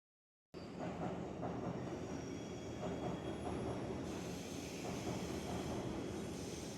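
A commuter train rumbles past directly overhead in Tokyo with a steady heavy roar, wheels clattering and faint metallic squeals running throughout; no voices.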